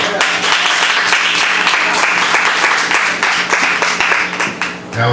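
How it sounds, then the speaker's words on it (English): An audience at an after-work poetry party claps steadily for several seconds after a performance, a dense, even roar of many hands with a few cheers, tapering slightly at the close. "One more round of applause, y'all."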